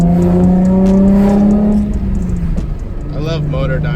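A Nissan 350Z with a Motordyne exhaust revs up with a deep, rising drone, then settles into a lower rumble as the engine note drops and steadies.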